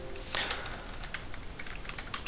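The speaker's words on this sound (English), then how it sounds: "let me type a select" Rapid, irregular clicking of a computer keyboard as a database query is typed, close and fairly quiet with brief pauses between bursts of keystrokes.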